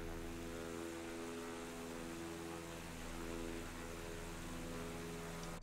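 The simulated engine of an Aero 45 twin-engine aircraft in Microsoft Flight Simulator holds a constant, even drone at full throttle, with no pauses and no voices.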